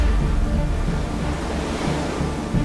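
Atlantic Ocean waves wash in a steady, dense roar of surf with low rumbling swells, continuous and fairly close, with no voices.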